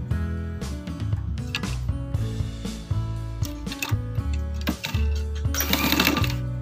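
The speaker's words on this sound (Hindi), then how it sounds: "यहाँ पे किनारे पे हम सिलाई लगा देंगे" A sewing machine stitches lace onto the edge of a trouser hem in quick bursts of rapid mechanical clatter, stopping and restarting, close and fairly loud with no talk.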